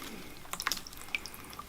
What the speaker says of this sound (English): I've got the roots in some water now, and I'm just washing off the remaining soil.